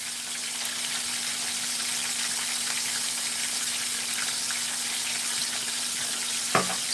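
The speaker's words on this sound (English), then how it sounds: "So you can see how quickly it's frying." Crappie fish fry in beef tallow with a dense, steady crackling sizzle up close, broken by one brief clack near the end.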